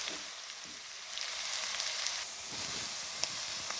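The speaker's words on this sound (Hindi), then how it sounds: "इसको हम अच्छी तरह भूनेंगे 2 से 3 मिनट के अदरक लहसुन का कच्चापन ख़त्म हो जाए" Ginger, garlic and onion fry in a pot for a vegetable pulao. The oil gives a steady, close, bright sizzle with a few small pops and crackles, and no voices are heard.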